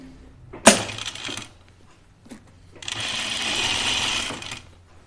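A sewing machine understitches a dress seam, a sharp click followed by a short whir, then a pause and a longer, steady stitching run of about two seconds.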